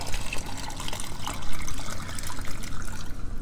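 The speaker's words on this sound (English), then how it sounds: "it gives you a spout on the lower level that you can use to fill up the byproduct" Worm tea, the liquid byproduct of a worm bin, trickles from a spout on the bin's lower level, a steady close watery stream running unbroken throughout.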